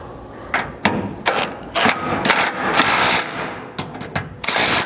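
Bolts on a Vanguard rear bumper being tightened on a Ford Ranger with a 3/4 socket wrench: bursts of close ratcheting clicks and metallic clatter in uneven spurts, no talk.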